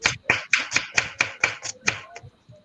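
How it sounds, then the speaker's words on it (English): Vegetables being chopped on a board in a kitchen by someone cooking, about ten sharp knife strikes in a steady, even rhythm, close and fairly loud, with a faint hum underneath. "She's cooking, chopping up vegetables."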